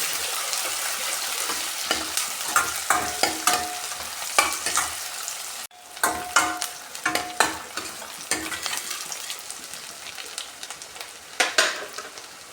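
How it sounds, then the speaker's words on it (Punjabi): Chopped onion, chilli, ginger and garlic fry in oil for a cauliflower sabji while a spatula stirs, a continuous close sizzle broken by many quick scraping strokes in an irregular rhythm, with one brief dropout midway. "ਇਹਨੂੰ ਵੀ ਅਸੀਂ ਤੇਲ ਦੇ ਵਿੱਚ ਪਾਵਾਂਗੇ ਪਲਟੇ ਨਾਲ ਨੂੰ ਲਾਵਾਂਗੇ"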